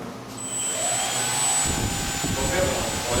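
Small unmanned Arduino-controlled model aircraft motor spinning up in flight mode, a steady high-pitched whine rising and continuing close by, with someone talking over it.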